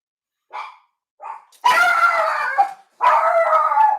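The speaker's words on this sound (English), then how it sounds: "hear the dogs barking" Dogs bark and howl nearby in a home: two short yips come first, then two long, drawn-out howling barks, loud and alone with no talk.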